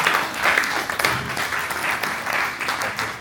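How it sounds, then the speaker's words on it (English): An audience at a talk applauds, giving itself a round of sustained, dense clapping that stays loud and even throughout with no speech over it. "you can give yourself a round of applause."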